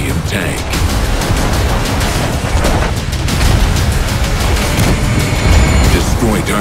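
A 57mm auto-loading cannon on a French AMX 13 57 light tank in World of Tanks, booming repeatedly in quick succession within a dense, loud battle mix of explosions and rumble, with narration over it.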